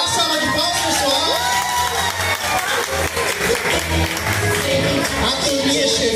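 Lively crowd at a children's school party in Brazil cheering, clapping and shouting together, loud and continuous throughout, with children's high voices and some background music mixed in.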